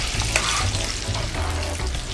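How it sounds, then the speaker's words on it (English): Onions frying in hot popping grease, a loud busy crackle and sizzle with sharp spits and a low rumbling scrape of stirring underneath, close up and brief. "The grease is popping. We will start off with our onions."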